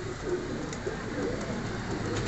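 A pure Sialkoti pigeon coos softly at close range, giving a few low, muffled coos over a steady background hum.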